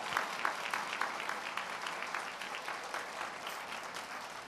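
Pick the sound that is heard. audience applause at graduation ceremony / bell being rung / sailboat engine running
audience applause at graduation ceremony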